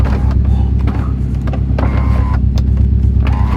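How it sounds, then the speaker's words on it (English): A sunroof motor hums steadily on a used Subaru STi with 126,000 miles, idling to reach operating temperature, a loud continuous whir over the engine's low drone with small clicks. "Let's see if the sunroof works."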